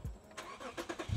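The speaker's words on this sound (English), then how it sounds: "Start the engine." Lexus IS350 F-Sport engine starting, a quick starter crank followed by a few rhythmic pulses as the engine catches and rises toward idle, heard close and moderately loud.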